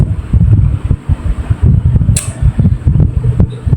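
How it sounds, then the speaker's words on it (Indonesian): An electric fan runs close by with a loud, steady, buffeting whoosh that fills the whole stretch, broken by one brief sharp hiss. "Enggak hujan loh, suara kipas."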